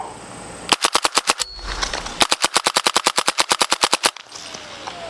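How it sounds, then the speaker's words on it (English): A suppressed PSA Jakl rifle in 300 Blackout fires semi-auto in two quick strings of muffled, evenly spaced shots, each a sharp close pop with a short tail, with a brief pause between strings. "Let's do some in semi-auto."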